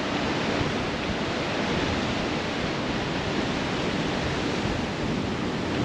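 Ocean surf on the beach at Mirissa, Sri Lanka, forms a dense, steady wash of broadband noise with wind buffeting the microphone, continuous and without distinct breaks or voices.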